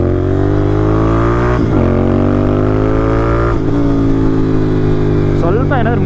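Royal Enfield GT650 parallel-twin motorcycle, loud and close, holding a steady drone with two quick throttle blips as it downshifts, then rising revs near the end; a voice talks over the engine.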